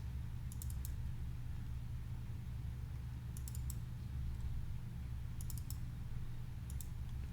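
Mouse clicks in drawing software come in small quick clusters, a few sharp faint clicks every couple of seconds over steady low room hum.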